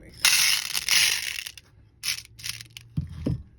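Small 8mm aqua blue glass beads pour and clatter into a container in a bright, gritty rattling burst, then a few scattered clinks and settling taps follow.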